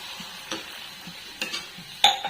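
A spoon stirs vegetable soup with soy sauce and water in a pot, producing a few soft, sparse scrapes and clinks. They land about once a second over a quiet background, with no talking.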